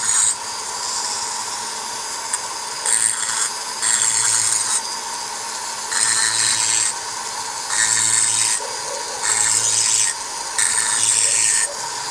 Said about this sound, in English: I'm gonna have to go back and hit that with the sandpaper again.